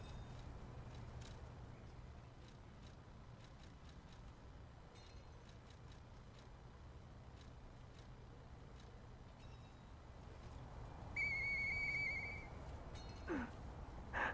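A single whistle in the video game Lies of P sounds near the end as a clear, sustained tone lasting about a second, rising above a quiet, constant low hum.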